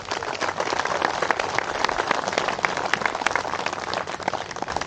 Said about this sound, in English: Give them a clap, please.